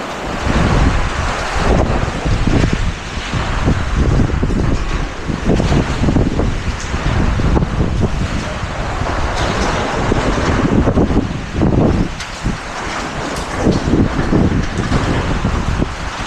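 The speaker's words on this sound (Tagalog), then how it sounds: "Actually, mas malakas ang hangin." Strong typhoon wind roars continuously into the microphone, a loud, dense rushing that gusts and buffets without pause.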